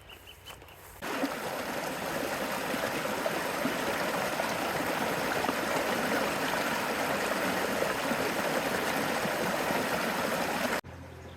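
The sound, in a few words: creek water flowing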